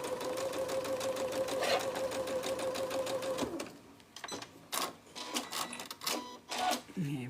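A sewing machine runs fast and steady, stitching a label onto a quilt, a loud continuous rattling whir that stops after a few seconds, followed by quieter clicks and handling noises.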